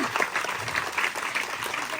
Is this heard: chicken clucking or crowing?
no